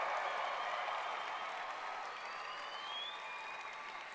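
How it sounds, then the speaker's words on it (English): Distant applause from a large audience at a high school arts graduation ceremony, cheering student performers, a dense, even wash of clapping that stays steady throughout and tapers slightly at the end. "Audience, give these kids a round of applause."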